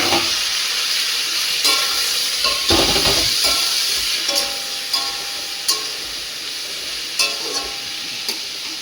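Vegetable stalks fry in a pan with a steady loud sizzle, while a spoon stirs and scrapes against the pan in irregular clicks and knocks.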